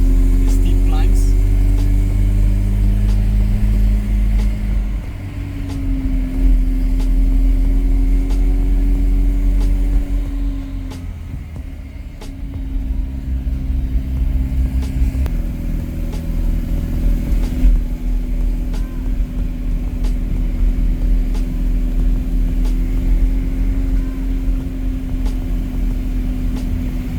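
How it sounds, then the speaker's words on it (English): A car engine labours steadily up a steep mountain toll road, its low drone continuous and close throughout while people talk over it. "Also, the car's not liking it, the steep climbs."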